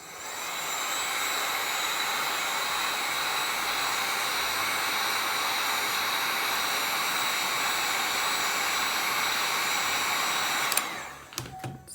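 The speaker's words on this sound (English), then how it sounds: "I'm going to take my heat gun, I'm going to put the narrower tip on it, and I'm going to heat that resin up" A heat gun fitted with a narrow tip blows steadily on resin drips, a loud continuous roaring hiss that cuts off near the end, leaving a few small clicks and handling sounds.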